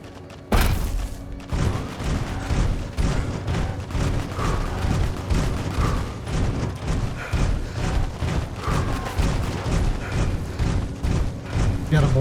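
Rapid, booming gunfire from a firefight in Fallout: New Vegas, dense repeated shots and thuds rolling continuously for the whole stretch, loud and close.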